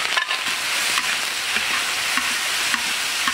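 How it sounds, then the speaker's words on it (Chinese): Drained whole spices stir-fried in a wok over low heat for braised pork bones give a steady close sizzle with scattered scraping stirs, no voices. "煸炒以后更能激发香味。"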